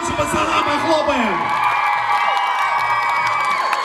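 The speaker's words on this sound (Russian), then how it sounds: "давайте погромче пацанам похлопаем!" An audience at a kids' advanced dance competition cheering for a boys' group: loud, continuous crowd noise with shrill whoops and children shouting, filling the hall without a break.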